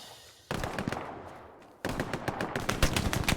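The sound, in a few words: gunfight gunfire in a video game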